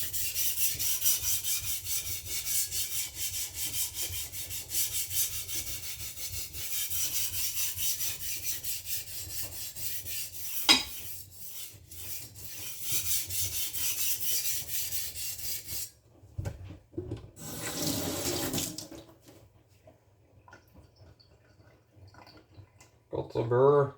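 Knife blade drawn across a sharpening stone, steady scraping strokes through the first half, then broken, quieter rubs with pauses and a few clicks near the end.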